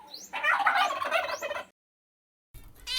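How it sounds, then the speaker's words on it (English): A turkey gives a loud rattling gobble lasting over a second, close and isolated, followed by silence and the start of another sound. "gobble,"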